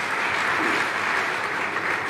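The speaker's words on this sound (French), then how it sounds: "Applaudir le chef de l'État." An audience at a political gathering applauds the head of state with continuous, even clapping that holds steady throughout.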